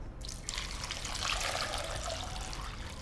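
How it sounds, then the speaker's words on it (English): Water poured into a small saucepan over chopped potatoes, a steady close splashing trickle running for a few seconds without pause. "And you just want to cover them with water."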